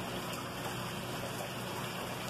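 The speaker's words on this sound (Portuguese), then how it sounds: "Não dá pra mim ir pra fora porque tá chovendo muito." Heavy rain pours steadily onto a backyard full of plants, a dense continuous hiss recorded from indoors with no other sounds standing out.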